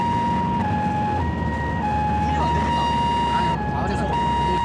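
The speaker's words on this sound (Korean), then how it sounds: "사고 현장에 도착한 듯한 구급차량" An ambulance siren wails steadily in long alternating tones near Jirisan in Sancheong, South Korea, loud and continuous, with traffic and engine noise underneath and voices faintly present.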